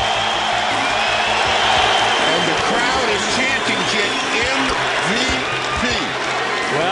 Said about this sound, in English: And the crowd is chanting.